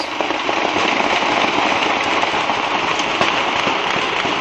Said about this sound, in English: There's definitely hand grenades, and automatic gunfire.